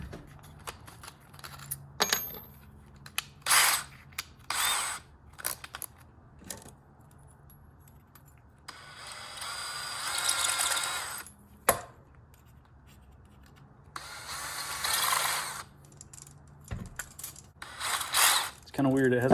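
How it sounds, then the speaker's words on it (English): A tool deburrs a hole in a plastic cold air intake on a Toyota Tundra, giving short bursts of scraping and rasping separated by quiet gaps and light clicks, close by. "Hopefully that's enough meat in the plastic. I'm gonna deburr this hole."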